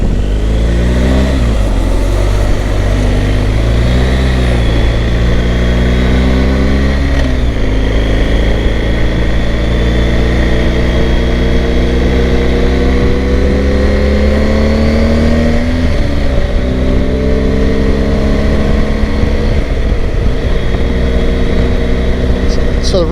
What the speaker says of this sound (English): the road noise really isn't that bad